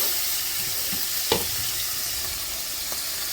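Beef tips brown in a pan with a steady, close frying sizzle that continues throughout, broken by a single sharp clink of stirring.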